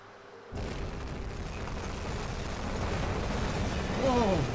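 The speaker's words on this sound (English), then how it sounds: "That was an impressive explosion." Ship explosion in the naval submarine game UBOAT: a sudden loud broadband blast that swells into a sustained rumbling roar, building further near the end with rising tonal whistles over it.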